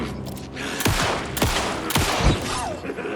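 Gunfire in the survival horror game Alan Wake II, aimed at a cult member: several sharp close shots in quick, irregular succession, each with a short echoing tail.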